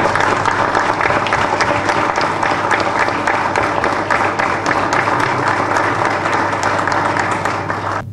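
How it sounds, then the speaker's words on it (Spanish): An audience gives a long, steady burst of applause at a public event opening a recovered factory plant, dense clapping that stays even and loud throughout without talk. "Por eso que creo merece esto un aplauso enorme de todos nosotros"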